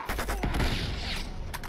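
Gunfire in Uncharted 2: Among Thieves crackles in a short loud burst of several rapid shots within under two seconds, close and harsh with no talk over it.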